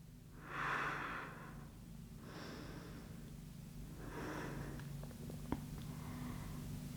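Slow, steady breaths taken while holding a yin yoga back-bend pose, soft airy inhales and exhales rising and falling in a few rounds over a low background hum.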